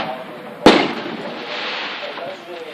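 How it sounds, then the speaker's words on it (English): A firework explodes outdoors at night with a single sharp, loud bang followed by a lingering rumbling decay, with voices audible around it. "there's still fireworks going on"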